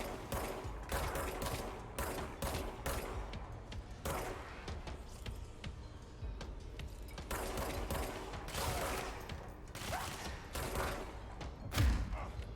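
Gunfire in the action game Control: repeated bursts of loud close shots, some rapid and clustered, others single, with mechanical clatter between volleys and a thud near the end.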